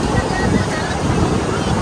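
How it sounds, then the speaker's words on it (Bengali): Sea wind at Digha beach buffets the microphone in a steady, loud, close rushing roar that fills the whole moment without a break. "এই যে হাওয়াটা দিচ্ছে এটা দিয়ে আমার ভালো লাগে।"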